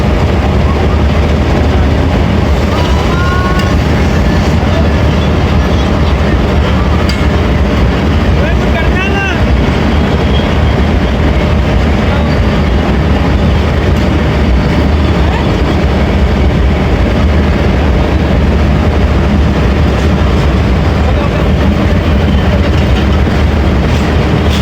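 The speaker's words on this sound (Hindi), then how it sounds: "ज़बरदस्त नॉच अप की है जी, और बड़ी तेज़ी से ड्राइवर साहब लेके जा रहे हैं जी 37 अब बाबा फरीद एक्सप्रेस को" The 38 DN Baba Fareed Express accelerates out of Lahore Junction on a branch line after a hard notch up, its loud, steady rumble continuing close by for the whole stretch.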